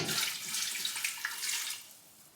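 Vinegar pours into an eco-dyeing pot of garden weeds, a brief close splashing trickle that fades out after about two seconds.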